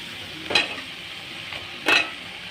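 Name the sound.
stirring and frying cauliflower in tomato gravy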